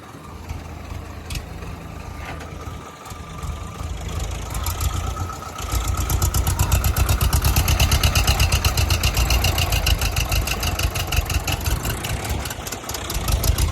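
A tractor stuck under a heavy load runs its engine hard, a loud, steady chugging drone that climbs in intensity and stays strained throughout.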